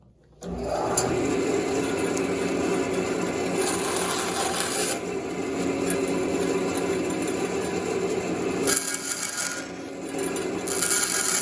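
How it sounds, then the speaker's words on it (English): A bandsaw cuts wooden ukulele back braces, a loud, steady rasping whine of blade through wood that runs nearly the whole time after a short quiet start. "then we can go to the bandsaw and cut these out"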